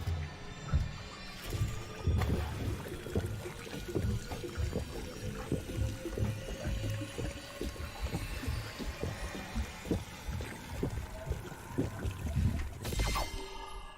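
Drinking a Chug Jug consumable in a video game: a steady liquid gulping, pouring sound with a slowly rising tone, lasting about eleven seconds before it cuts off.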